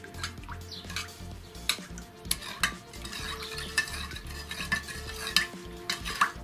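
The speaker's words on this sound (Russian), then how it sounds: "Тщательно все перемешиваем." Spoon stirring a salty brine for lightly salted cucumbers in a bowl, with repeated quick scrapes and clinks at an uneven rhythm, close and moderately loud, with watery sloshing between strokes.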